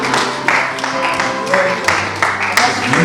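Congregation applauding for Jesus during a pastor's installation service in Grand Rapids, a steady close wash of many hands clapping with several sharper bursts, and voices mixed in underneath.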